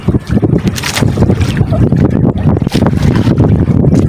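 Strong typhoon wind at sea beside a small boat, a loud constant roar and buffeting gusts hammering the microphone, with water sloshing underneath and no talking.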